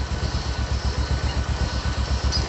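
A repaired motorcycle engine idles steadily close by, its low, even thumping pulses running without a break and with no voices over it.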